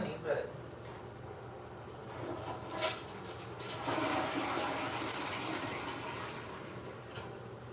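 A toilet flushes in a home bathroom, a loud close rushing gush of water that swells and holds steady, then trails off as the tank refills.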